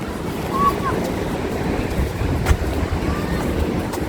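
Sea waves wash steadily onto the sandy shore at Mahuva. The surf makes a continuous broadband roar, mixed with wind buffeting the microphone.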